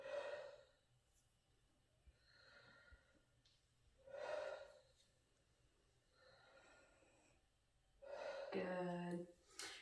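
During a lung exam, a patient takes slow, deep breaths, with three or four faint inhale-exhale cycles spaced a few seconds apart in a quiet room.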